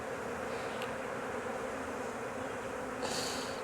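Honeybees from a swarm being hived in Jacksonville, Florida, a continuous dense buzzing of many bees at close range, steady and fairly faint, with a brief louder whine from a single bee passing near the end.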